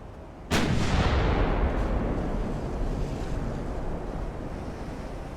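A single 18-inch naval gun fires in the warship game Ultimate Admiral: Dreadnoughts, a sudden loud boom that rolls into a long rumbling decay over wind-like ocean noise.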